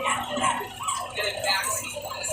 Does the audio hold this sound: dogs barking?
yes